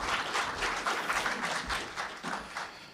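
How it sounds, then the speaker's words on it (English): Applause from an audience at an ocean observation science talk, a fairly dense, close clapping with uneven surges that tapers off toward the end. "Round of applause."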